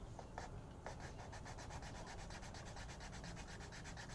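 Bamboo Sundanese suling flute being rubbed to sharpen its edge, a steady close scraping friction that repeats in quick even strokes throughout, with no talk.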